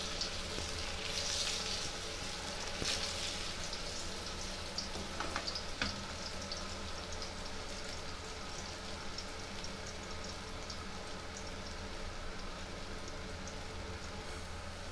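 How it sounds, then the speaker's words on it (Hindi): Besan gatte, gram-flour dumplings, frying steadily in hot oil until brown, a continuous dense crackling sizzle with a few sharper pops, moderately loud and close, no voices. "इसको ब्राउन होने तक तलूंगी मैं।"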